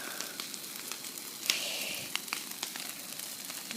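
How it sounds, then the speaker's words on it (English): A big outdoor bonfire burns with a steady rushing roar, sharp crackles and pops scattered throughout, heard fairly close with no talking. "This is a big bonfire."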